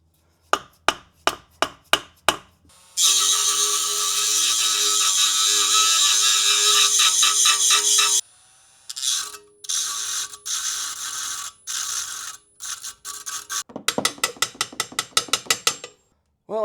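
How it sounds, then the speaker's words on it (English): A rotary tool cuts through the welds on a car heat shield, a loud continuous high-pitched whine in long bursts, framed by sharp ratcheting clicks and taps, close and prominent. "I'm going to look into just getting my rotary tool and just cutting out some of these welds"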